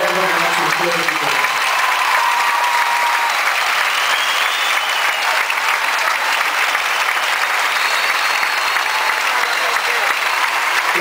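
Crowd at a live rock concert applauding and cheering, a loud, dense, unbroken roar of clapping that fills the whole stretch with voices blended in.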